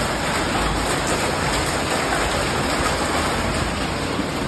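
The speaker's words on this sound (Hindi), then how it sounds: "कितना ज़्यादा बारिश आ गया" Heavy, steady rain pours down at night without a break, a dense roar of water close by with no voices.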